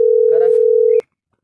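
A mobile phone call tone plays as one steady, clear electronic note for about a second, then cuts off abruptly into silence, with a faint murmur beneath it.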